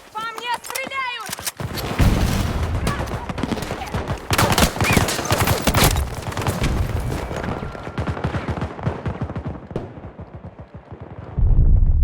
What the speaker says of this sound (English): По мне стреляют!